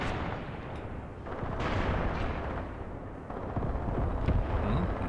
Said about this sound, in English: More howitzer shots.